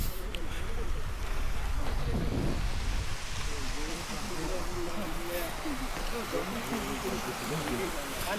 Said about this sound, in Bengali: যাত্রার এই স্টেজে এসে আমরা একটা ঝর্ণার দেখা পাই, যেটা ওদিক থেকে বেয়ে আসতেছে